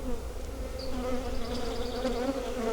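Honey bees buzz steadily in a bee yard around open hives, a close, continuous drone of many wings with individual bees passing near, no voices.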